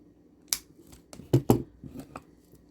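Scissors snip through the small end of a kandi bracelet string, a few sharp, close clicks and cuts in quick succession against a quiet background.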